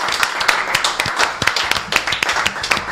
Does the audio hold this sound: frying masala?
no